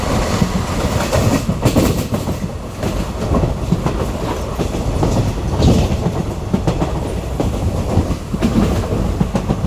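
The Madurai–Trivandrum InterCity Express runs on rails as it nears Tirunelveli Junction, giving a loud, steady rolling rumble with a rhythmic clickety-clack of the wheels throughout and no voices.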